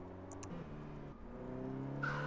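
A car drifts in the zombie game Zombie Driver, its engine whining at a quiet level before a short tire squeal rises near the end of the brief clip.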